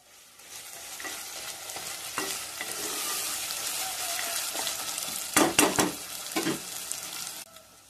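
Onions and dried red chillies frying over high heat in a pan for a meat masala curry, with a steady close sizzle and a few louder stirring scrapes near the end, no talk.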